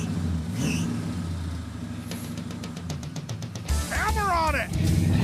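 A Chevrolet Bel Air's starter cranks in a quick, even run of pulses without the engine catching, over a low background rumble, with people talking nearby.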